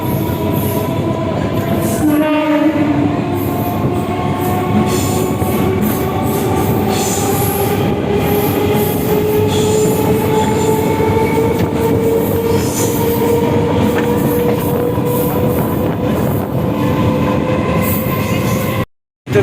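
A passenger train on the Puri to Medinipur line stands at Giri Maidan station, whistling before it pulls out, with a sustained rumble and metallic wheel tones running steadily for the whole stretch.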